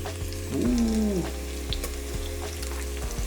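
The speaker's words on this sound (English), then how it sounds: "Now the chicken goes in." Chicken pieces are frying in a pan of nasi biryani sauce, giving a steady close sizzle with a brief louder hiss as they go in, plus a few stirring knocks and no talk.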